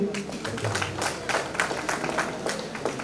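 An audience claps steadily for a second-prize winner at a song competition prize ceremony, a dense, continuous patter of many hands at moderate loudness lasting throughout, with faint voices mixed in.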